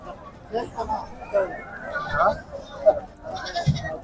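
Several large goats bleat close by at a livestock market, short wavering cries repeating among murmuring voices and general crowd chatter.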